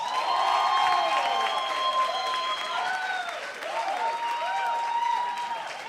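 Loud sustained applause from a large church congregation, with cheering voices and whistles riding over the continuous clapping throughout.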